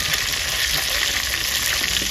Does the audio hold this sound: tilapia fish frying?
yes